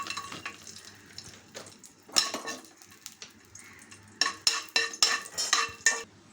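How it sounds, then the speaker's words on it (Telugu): Raisins frying in ghee in a pan for semiya sabudana payasam, a faint sizzle under a run of sharp metal spoon scrapes and taps against the pan, close and unhurried. "కిస్మిస్ కూడా చక్కగా ఫ్రై అయిపోయినాయండి"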